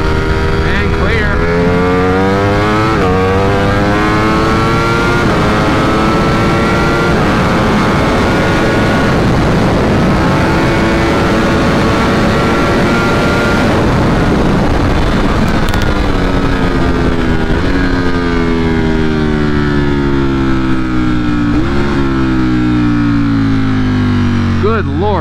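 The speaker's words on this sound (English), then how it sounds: "Good Lord, that bike is not meant to go that fast." A 2020 Ducati Streetfighter V4 with a flashed ECU tune accelerates hard downhill, its engine howling loud and close through rising gears with quick shifts, wind noise rushing over it, and a rider's voice under the roar.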